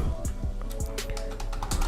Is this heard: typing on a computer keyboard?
yes